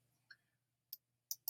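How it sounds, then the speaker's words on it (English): Computer mouse clicking in a virtual science lab, a few faint, sharp clicks scattered sparsely with quiet gaps between them, heard alone. "I keep clicking on the wrong thing here."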